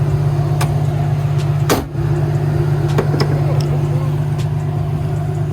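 Mishimoto slim electric radiator fans running on an Infiniti G35, a steady loud whirring hum with a constant low drone throughout, a few faint clicks over it.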